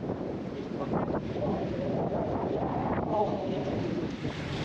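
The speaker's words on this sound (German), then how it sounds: "Der Wind hat wieder etwas aufgefrischt" Strong wind buffeting the microphone on a boat trip in the Netherlands between Joure and Grou, a continuous loud roaring gust mixed with water and engine rumble, and faint voices underneath.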